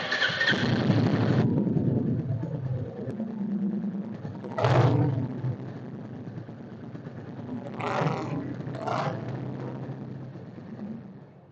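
Royal Enfield Bullet 350 motorcycle engine idling with a steady low thump, nearby and fairly loud, broken by a few brief rev blips.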